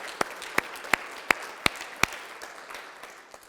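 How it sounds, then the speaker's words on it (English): A few sharp, evenly spaced claps, about six in quick succession, ring out at a coaching gathering, then stop, leaving quiet room tone. "Let's give another round of applause for Tawana."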